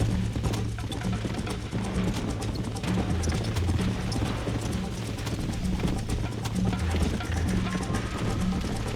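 A horse gallops in the Red Dead Redemption video game, with steady rhythmic clip-clop hoofbeats and faint jingling tack carrying on continuously under a low rumbling background.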